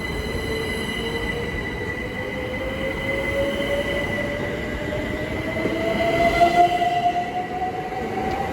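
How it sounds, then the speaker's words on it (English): A passenger train departing Ealing Broadway station rumbles steadily close by as it pulls away, with a rising metallic whine from the wheels and the roar swelling toward the end. "Now departing is the 12:51 TfL rail service from London Paddington to Reading"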